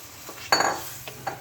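Hot water hits a pan of rui fish curry with cauliflower and potato, giving a short sizzling splash. A few faint clinks and stirring sounds follow.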